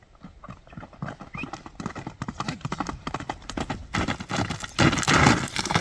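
Hooves of a Kyrgyz horse clip-clop in a steady, fairly close walking rhythm, the footfalls growing louder and busier toward the end, with no talk over them.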